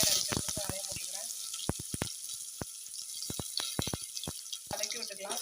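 Chopped onions and curry leaves dropped into hot oil with popped mustard seeds, making a steady crackling sizzle broken by sharp, repeated pops and spatters, close and fairly loud throughout.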